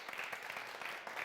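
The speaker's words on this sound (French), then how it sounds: "Applaudissements pour Festibro" Applause for a performer on a French-language television show, a short, dense burst of many hands clapping, faint and steady without pause.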